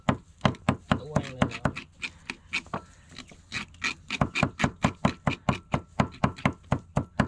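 A knife chops repeatedly on a board, cutting fish while a clay-pot pepper braise is prepared outdoors. The sharp knocks come close and loud in a quick, mostly even rhythm, with a brief slower stretch in the middle.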